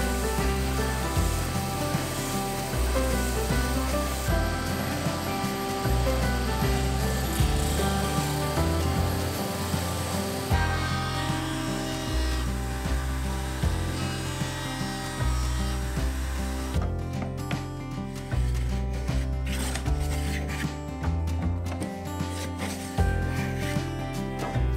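An oscillating sander works over a wooden cut edge, smoothing it to a marked line; a steady buzzing whir with shifting rubbing tones runs continuously throughout, close and alone.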